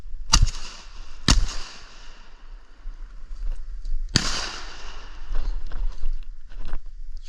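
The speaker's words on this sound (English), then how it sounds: "When he gets up and goes away, I'll shoot him." Shotgun blasts at a drake during a public-land duck hunt in Wisconsin, two sharp outdoor cracks in quick succession then a third a few seconds later, loud and close over wind and rustling.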